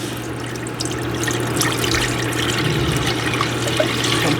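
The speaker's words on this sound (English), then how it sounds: "Just pour all of it in." Ramen broth pouring steadily into a pot, a continuous splashing gurgle over a low hum, close by and fairly loud.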